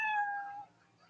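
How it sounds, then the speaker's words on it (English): A single cat meow played as a sound effect to mark time running out, clear and tonal, lasting about half a second before fading into quiet. "That's 60 seconds when you hear the sound of a kitty."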